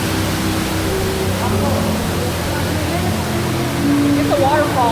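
An underground waterfall inside the Ruby Falls cave roars as a steady, dense wash of falling water, loud and constant throughout, with people talking faintly beneath it.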